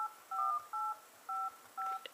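Touch tones from a Palm Pre phone's dialer keypad: five loud dual-tone beeps in an uneven rhythm, each lasting about a quarter second, close and clear over a faint background.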